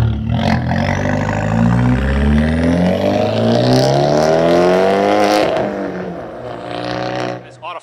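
A Fiat 124 Spider Abarth engine revs hard, its loud rasping note climbing steadily in pitch over several seconds before easing off, close and dominant throughout.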